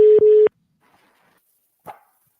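A telephone ringing tone on an outgoing call to the Azores, heard as one clear double-pulse burst near the start, followed by near silence and a brief faint rustle.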